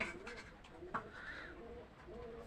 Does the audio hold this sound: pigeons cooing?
yes